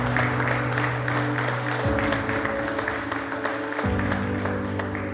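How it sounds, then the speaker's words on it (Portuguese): Applause from an audience at a CCB award ceremony, continuous clapping over a sustained musical chord that shifts pitch twice. "Um aplauso"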